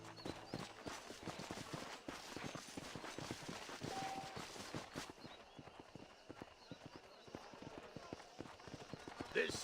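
Horse hooves clip-clop steadily in the Red Dead Redemption video game, a brisk run of close hoofbeats that lasts throughout. Other game sounds and voices mix in around them.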